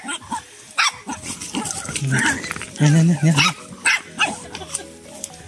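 A stray dog barks and yips in short bursts outdoors while people talk nearby, the barks mixed in with and partly masked by the voices.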